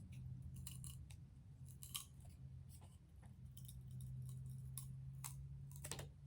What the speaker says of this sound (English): So then I'm going to take my scissors